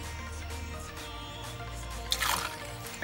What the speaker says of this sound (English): we'll start off by pouring in Absolut vodka